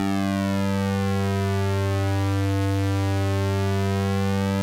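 A device that converts light into sound emits a steady, loud electronic tone rich in stacked harmonics, droning continuously with slight wavering and no voices.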